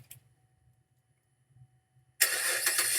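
A 2012 LTZ car engine is quiet for about two seconds, then starts abruptly and keeps running at a steady, fairly loud idle, heard close by.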